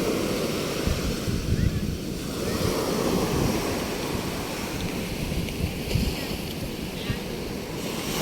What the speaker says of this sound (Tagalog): Ang ganda ng alon, oh.